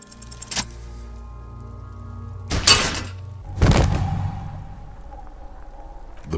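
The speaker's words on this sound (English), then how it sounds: "The buckle explodes into tiny pieces, coming loose with a whir." A gunshot shattering a belt buckle in the game Disco Elysium: Final Cut, heard as three sharp, crashing impacts spaced a second or two apart over a low ambient hum.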